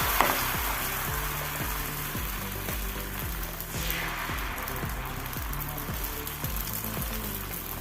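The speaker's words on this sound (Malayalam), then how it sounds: "ഗ്യാസ് ഓൺ ചെയ്ത് ദോശക്കല്ല് വെച്ച് കൊടുക്കുക കുറച്ച് എണ്ണ വരട്ടി കൊടുക്കണം നമുക്ക് ദോശ ചൂടാം" Rice dosa batter sizzles on an oiled hot griddle, a continuous crackling fry with close, steady spitting and no voices.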